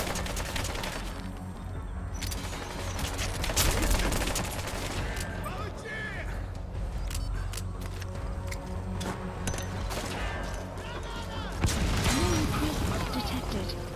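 Rapid gunfire in Metal Gear Solid V: The Phantom Pain, bursts of automatic shots and scattered single cracks running continuously, with game voices and a player talking over the shooting.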